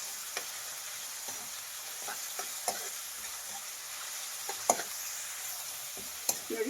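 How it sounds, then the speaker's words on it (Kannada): Onion and a large tomato frying in a pan; a soft, steady sizzle broken by scattered sharp taps and scrapes of stirring, with no talking. "ಇದು ಅಷ್ಟೇ ಫ್ರೈ ಮಾಡಿ."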